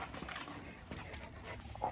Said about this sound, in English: Last but not least, this is our Cane Corso.